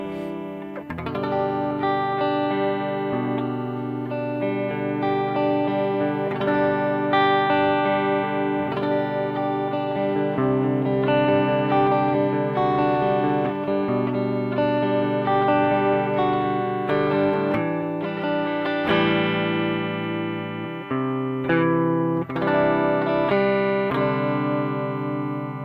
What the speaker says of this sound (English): and that's the tremolo